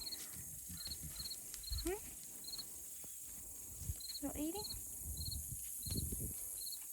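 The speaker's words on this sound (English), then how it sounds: "Hear the crickets?" Crickets chirp in short, regular bursts throughout, with a person speaking briefly and small animal noises nearby.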